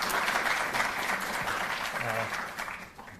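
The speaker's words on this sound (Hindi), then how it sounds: "जोरदार तालियों से आप स्वागत करेंगे।" A large audience at a Delhi government ceremony honouring national athletes bursts into loud, sustained applause that fades slightly toward the end, with a voice briefly audible beneath it.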